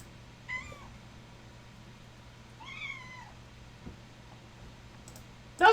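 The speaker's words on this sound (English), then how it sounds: "She's meowing nonstop now" A pet cat gives two rising, drawn-out meows a couple of seconds apart, moderately close, over a quiet room hum, followed by a few sharp clicks at the end.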